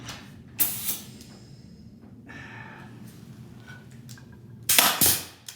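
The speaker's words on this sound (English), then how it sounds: "The first is firing nails into the bedroom, right, just to check." A nail gun drives nails into a bedroom wall during a 1950s bathroom renovation: two sharp, loud shots, one early and one near the end, with low room noise and faint handling sounds between them.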